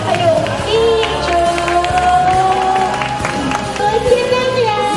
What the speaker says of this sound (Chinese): 来掌声欢迎陈家，还有一竹